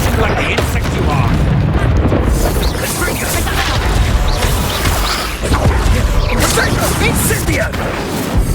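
Incendio fire spell cast during a Hogwarts Legacy video game battle, a sustained loud roar of fire and crashing impacts with whooshes and booms layered over constant rumble, with a voice speaking amid the chaos.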